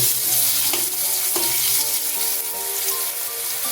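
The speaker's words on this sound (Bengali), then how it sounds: "দিয়ে দিচ্ছি আলু, আলুটা কিছুক্ষণ আগে ভেজে নিচ্ছি" Potatoes fry in a pan with a little oil, dried red chilli and five-spice, giving a dense, continuous close sizzle with a few soft stirring knocks.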